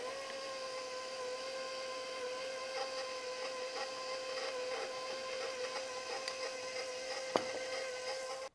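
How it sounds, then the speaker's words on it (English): An electric mixer runs steadily while all-purpose flour is gradually added to pecan snowball cookie dough, giving a constant close motor whine with faint clanks against the bowl. "I've got 2 cups of all-purpose flour that I'm just going to gradually add here as the mixer runs."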